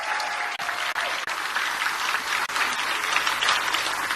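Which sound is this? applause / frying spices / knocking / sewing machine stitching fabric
applause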